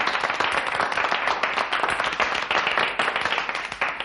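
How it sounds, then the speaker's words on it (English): A crowd of gentlemen applauds at a civic gathering in the Ranger Bill radio drama: dense, steady clapping from many hands, fairly close and even throughout, with no talk over it. "Gentlemen, thank you for your generous applause."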